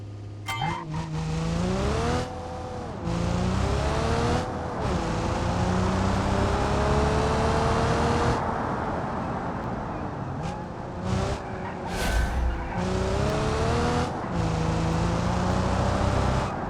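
A driving-experience ETK car in the BeamNG game races a timed lap, its engine revving loud and near throughout with rising and falling pitch through gear shifts, brief drops in sound, and occasional tire skids.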